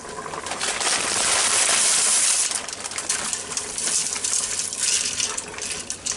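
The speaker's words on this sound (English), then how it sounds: "Now I'm going to start dumping these noodles in." Dry noodles from a 12-ounce bag pour into a Ninja Foodi Deluxe pot for chicken noodle soup, a dense, close rattling clatter that is loudest at first and then continues more unevenly.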